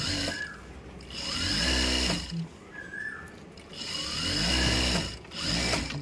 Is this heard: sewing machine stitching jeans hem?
yes